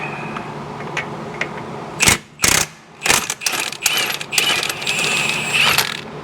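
The last lug nut comes off a motorhome wheel with a cluster of sharp metallic clinks and clattering bursts, close and loud after a quieter stretch, with no talking.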